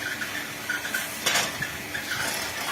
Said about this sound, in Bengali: একজনেও এই মেশিনে মুড়ি ভাজা সম্ভব